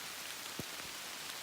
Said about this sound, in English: Yes, it's starting to rain again.